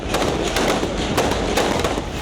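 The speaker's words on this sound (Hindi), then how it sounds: "आंसू गैस के गोले दागे जा रहे हैं, गोलियां चलाई जा रही हैं" Tear gas shells and gunshots at a street protest crack out as a rapid, dense series of sharp bangs and pops over a loud, continuous crowd roar.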